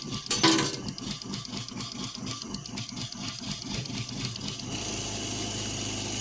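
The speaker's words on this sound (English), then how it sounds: "So I have the pump running more of a full flow now." A Seaflo 42 series water pump runs at full flow, a steady rapid mechanical pulsing hum with a brief clatter at the start, close and constant, shifting to a smoother wash near the end.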